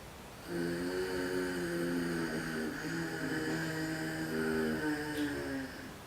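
A long, buzzing, rasping exhale from the throat with the epiglottis vibrating, steady and close, with a rough vibrating drone that lasts several seconds before fading.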